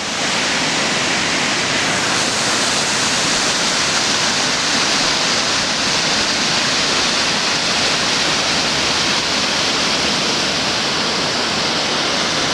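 A waterfall at Mill Creek Park roars as a steady, even rush of falling water, constant and full without pauses and with no voices.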